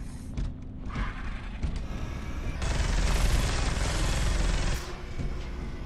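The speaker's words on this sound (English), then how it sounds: "I'm hitting it with an assault cannon." Heavy rapid mechanical firing of an assault cannon in the video game Space Hulk: Deathwing churns on continuously, a dense grinding rattle that swells louder midway, with clanks and creaks mixed in.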